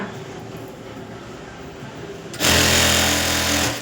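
A sewing machine stitches a blouse back neck, opening with a quieter hum before bursting into a loud, fast, steady run of needle stitching that stops near the end.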